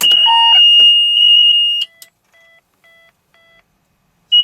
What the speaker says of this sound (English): There's going to be a total of 5 horns or beeps.